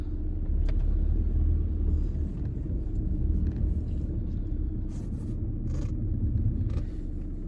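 A car engine rumbles steadily as the car pulls away on a snowy road at a ski area in Kolasin, Montenegro, loud and continuous with faint scraping over it.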